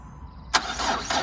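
A Peugeot 407 SW HDI diesel engine, started off a jump pack after a lost key, cranks briefly and catches, then settles into a steady idle. It is brief and close, with no talking.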